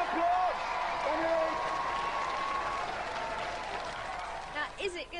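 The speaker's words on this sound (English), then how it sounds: "Ladies and gentlemen, Plum the Bear Tech, give them a round of applause." Crowd applause and cheering fill a TV robot combat arena, a broad roar of clapping with a voice speaking over it at first, thinning toward the end.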